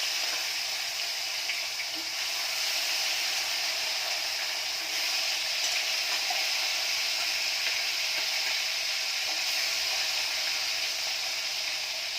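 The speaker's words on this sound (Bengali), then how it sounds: "তেলটা গরম হয়ে গেছে, মাছগুলো ভাজা হচ্ছে।" Fish pieces fry in hot oil in a pan, a steady, even sizzle close by that holds without pause throughout.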